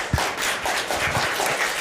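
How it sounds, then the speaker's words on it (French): Studio audience at a French quiz show claps for a player, a short burst of dense applause that stays steady and fairly close before the clip cuts off. "On peut l'applaudir."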